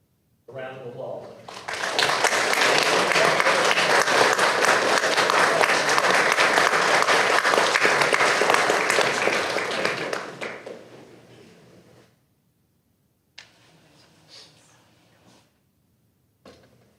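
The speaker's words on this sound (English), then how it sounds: "Round of applause." A city council meeting audience breaks into applause that swells quickly, holds strongly for about eight seconds, then fades out, followed by near silence broken by a few faint shuffles and knocks.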